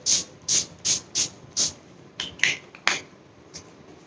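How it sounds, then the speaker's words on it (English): Makeup setting spray fixer misted onto a face: five quick, even spritzes in a steady rhythm, then a few scattered softer hissing bursts, close and alone with no talking. "So let's just spritz something on our face."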